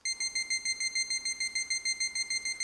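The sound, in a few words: timer warning beep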